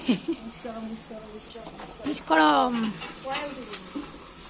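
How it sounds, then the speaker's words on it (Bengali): Pachan, a traditional herbal dish, sizzling and frying in a pot as several people cook it together, with stirring scrapes and steady hissing beneath close voices talking. "4 জন মিলে পাচন রান্না হচ্ছে।"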